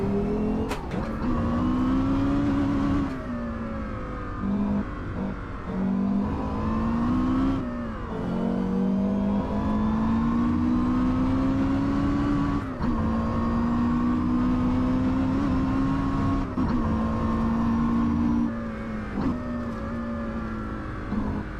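A Porsche Carrera GT road car lapping a race track, its engine droning loud and close with steady revs that rise and dip through gear changes for the whole stretch, with no talking.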